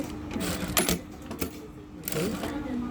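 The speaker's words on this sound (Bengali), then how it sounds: "দেখেন চাপ দিলে 1 স্টিচ হবে, 2 স্টিচ দিলে 2 স্টিচ দিতে পারবেন।" A Jack A5E industrial sewing machine stitches in short bursts, its needle chattering rapidly and fairly loud and close, with brief pauses between runs and faint talk underneath.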